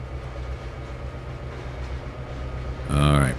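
A train arriving in the railway simulation game Trainz 2022: a steady low rail rumble throughout, swelling near the end into a loud, bright horn-like blast, with speech faintly present over the rolling noise.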